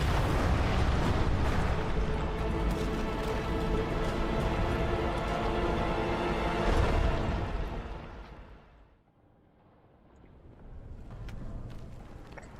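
Explosion in the video game Hollow Knight: Silksong, a loud, dense blast that rumbles steadily for several seconds, then fades out, with a quieter rumble returning near the end.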